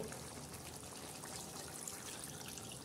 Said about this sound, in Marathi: याच्यात आपण थोडंसं असं गरम पाणी टाकणार आहोत